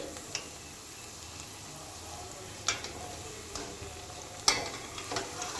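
Black-eyed pea vadas deep-frying in hot oil give a steady, fairly quiet sizzle, broken by a few sharp pops and crackles spaced a couple of seconds apart, with no voices over it.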